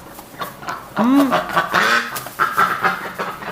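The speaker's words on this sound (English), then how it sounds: "What's going on, my little hurt ducks?" Two hurt ducks quacking near running water from a pipe, a few loud nasal quacks close by, alone without talk.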